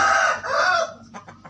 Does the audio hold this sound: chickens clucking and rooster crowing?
yes